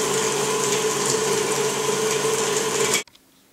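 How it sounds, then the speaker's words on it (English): An electric mixer beats brown sugar and vanilla into a creamy cookie dough base, a loud steady whirring drone that runs continuously and then cuts off abruptly near the end, leaving quiet. "Now I'm going to beat these ingredients until they're nice and creamy."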